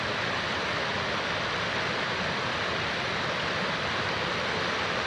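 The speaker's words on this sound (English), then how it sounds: "down by the waterfall." A waterfall at Falls Mill near a campground in West Virginia, giving a steady, dense roar of rushing water that fills the whole stretch at constant loudness, with no voices.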